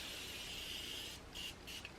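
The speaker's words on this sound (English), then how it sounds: "Just gonna spray this all." Bursts of fine spray hiss quietly after a stretch of faint background noise, about three short sprays in quick succession.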